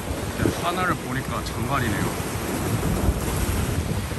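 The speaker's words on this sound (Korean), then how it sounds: "이거 물소리가 좀 들리면서" Steady broadband wash of water at the Canary Wharf waterfront in London, mixed with wind noise on an overcast day, running continuously under a voice that talks across it.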